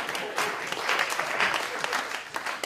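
An audience applauds a cups and balls magic trick with dense, steady clapping that swells slightly and stays fairly loud for the whole stretch, with no talking over it.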